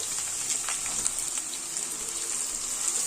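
Three chopped onions sizzling in hot oil in a pan, a steady close hiss of frying without any talk.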